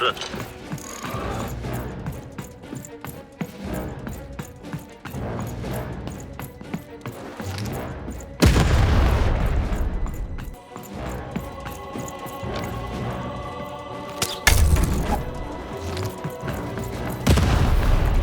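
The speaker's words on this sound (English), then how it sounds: "Shoot the button to fire the cannon." Cannons fire in the video game Lost in Random, heavy booms landing at several points amid clattering game effects and music, while a voice talks over the action.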